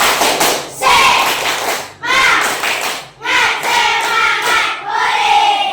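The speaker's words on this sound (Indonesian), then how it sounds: "sekarang kasih tepuk semangatnya dulu" A classroom of students does a rhythmic spirit clap in four loud bursts of claps, each about a second long, separated by short pauses, with voices chanting along.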